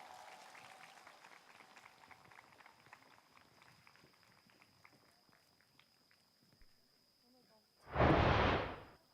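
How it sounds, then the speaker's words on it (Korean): An audience claps in a burst near the end, a short loud swell of applause after a stretch of quiet shuffling and footsteps in a hall during a music-evening talk show. "큰 박수 부탁드리겠습니다"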